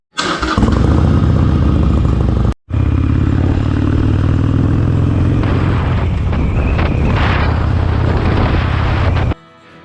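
A Harley-Davidson 883 motorcycle fitted with a custom sidecar roars loud and close, its engine note rumbling steadily, cutting out briefly near the start, then revving and pulsing before dropping away at the end.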